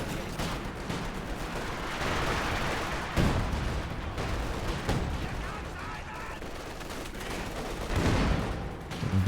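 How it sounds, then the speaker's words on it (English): Airburst barrage explosions in a competitive video game match, a steady roar of repeated blasts and crackling fire with a few heavier thumps, a commentator's voice running beneath. "With the airburst barrage."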